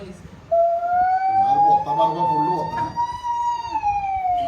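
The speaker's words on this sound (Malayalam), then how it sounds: "പോലീസ്" A toy police car siren sounds a steady, slowly rising electronic wail in a toy shop, close and fairly loud, with voices chattering underneath.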